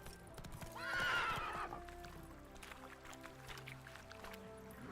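A horse named Roach in The Witcher 3 game neighs loudly in one prominent whinny, then hooves clip-clop at a steady gallop under a faint game soundscape.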